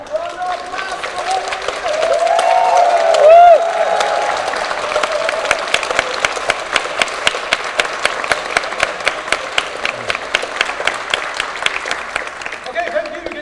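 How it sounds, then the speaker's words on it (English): Audience applause at a tournament grand finals: dense, sustained clapping from a crowd fills the space, swelling early and then settling into steady, rhythmic claps with a faint murmur of voices underneath. "round of applause for"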